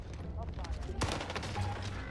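Rapid gunfire from the video game Warzone, bursts of shots crackling over a steady background bed, with one sharper crack near the middle and continuous noise throughout.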